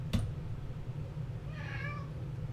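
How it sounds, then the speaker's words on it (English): An angry cat meows once, a short strained call in the latter half, fairly close but not loud, over a steady low background hum after a brief knock at the start. "my cat's a little angry"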